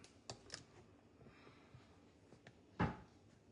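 A drawer shuts with a single dull clunk late in a quiet, low-level stretch, preceded by a few faint taps and small handling noises.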